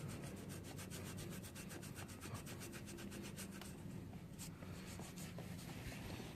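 Steady, close scrubbing strokes on a rusty GY6 scooter body panel as grime is rubbed off, a continuous rhythmic rasping that stays even throughout, with no voices.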